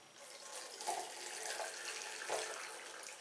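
Red cabbage liquid pours from a saucepan into a colander over a sink, a steady splashing stream with a few gurgling surges, moderately quiet and without talk.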